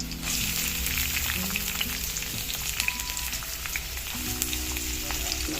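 Ginger, garlic and green chilli frying in about three tablespoons of sesame oil for a pineapple pickle, giving a continuous close sizzle with a few soft stirring taps, steady and without talk.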